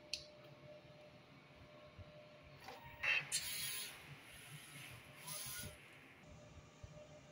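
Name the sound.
inkjet printer running a nozzle test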